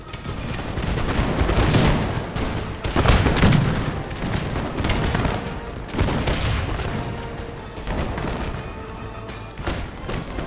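Musket volleys crackle across a winter battlefield in Napoleon: Total War, with repeated ragged bursts of massed gunfire and deep booms rolling at a distance over a constant din of battle.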